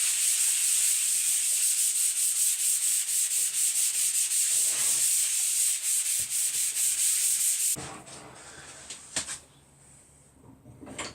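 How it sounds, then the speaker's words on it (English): A wooden shed worktop, a replacement MFT top, gets a light hand sanding, heard as close, even rubbing strokes in a steady rhythm that stop abruptly, leaving a quieter room with a few small knocks. "I'm just going to give it a very light sand over"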